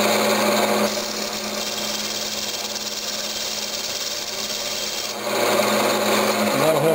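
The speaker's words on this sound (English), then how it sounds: "I'm just going to taper the end of it just a touch." A woodturning tool tapers the end of an apple burl travel mug on a spinning lathe, giving a continuous dry rasping scrape that starts about a second in and stops abruptly near five seconds, with the lathe hum on either side.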